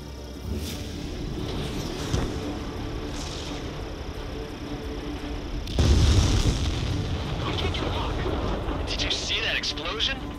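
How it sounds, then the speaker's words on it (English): A supply ship blowing up after a direct missile hit in the Ace Combat 7 flight combat game, a heavy low boom swelling midway through a steady roar of jet engines, with radio chatter layered over the action. "The missile hit the supply ship dead on."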